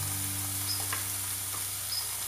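Beef ribs with coarse salt sizzle in a pressure cooker with no water or oil, a steady, even hiss of frying throughout with a few faint crackles, close and alone.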